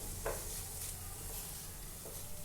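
Vegetables stir-fried in a pan with soy sauce and schezwan chutney for a cheese frankie filling, a soft sizzle with a few light scraping stirs of a utensil, faint and fairly distant.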